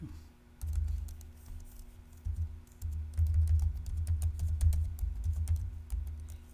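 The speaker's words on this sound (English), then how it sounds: "I am doing it old school style, typing it in." Keys clatter on a computer keyboard in quick, irregular bursts with short pauses, close and fairly soft, with no talking over it.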